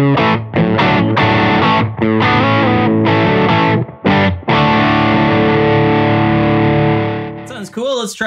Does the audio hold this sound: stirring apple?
no